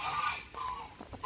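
Geese honk loudly nearby, a few drawn-out nasal calls overlapping in quick succession among other farm fowl, with brief gaps between bursts.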